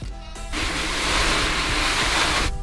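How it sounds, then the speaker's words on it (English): Water gushes steadily into a bucket being filled for washing a vinyl-wrapped car, a loud, continuous rushing splash that starts abruptly and then cuts off. "I'm going to fill the bucket about 3/4 of the way up with the water."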